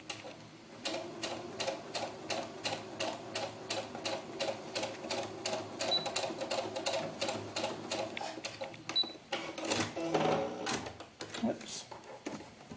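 A sewing machine stitches doll clothing in rapid, rhythmic bursts of clattering at close range, with brief pauses and a speaking voice partly overlapping.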